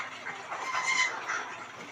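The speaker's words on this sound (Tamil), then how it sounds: "எல்லாம் லைனேஜ் ஃபைட்டிங் சேவல் தாங்க" A Peruvidai fighting rooster clucks and chatters continuously at close range for a couple of seconds, with no talk over it.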